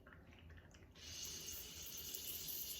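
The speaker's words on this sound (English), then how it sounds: "right towards the end, you're going to hear like a bubbling sound, which is pressure" A coffee press gives a soft, hissing bubble near the end of the press as pressure is released. Quiet liquid sounds come first, then a steadier gurgling hiss takes over, close and faint.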